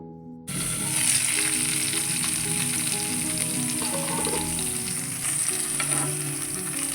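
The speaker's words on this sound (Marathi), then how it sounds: "आता हे सर्व साहित्य आपल्याला व्यवस्थित भाजून घ्यायचे" Raw mango, tomato, garlic and green chillies sizzle steadily as they roast in a pan, a close continuous crackle with occasional stirring scrapes, with no talking.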